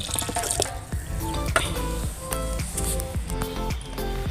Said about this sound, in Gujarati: મેં 1 ગ્લાસ પાણી નાખ્યું